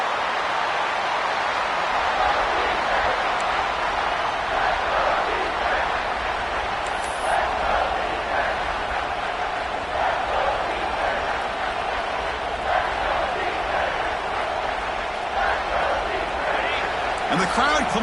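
A stadium crowd at a college football game roars in a steady, broad wash of cheering while the defense plays in the red zone, with a commentator talking over it throughout.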